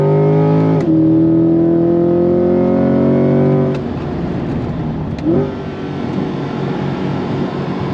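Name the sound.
Corvette C8 6.2 liter LT2 V8 launch acceleration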